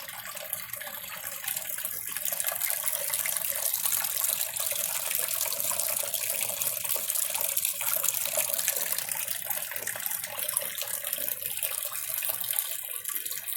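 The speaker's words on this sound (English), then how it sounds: "There's the sluice working." Water washes steadily through a gold prospecting sluice on a dredge in Caldwell County, North Carolina, a loud, continuous rushing gush with no talk over it.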